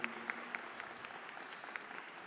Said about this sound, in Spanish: les pido un fuerte aplauso para recibir a Virginie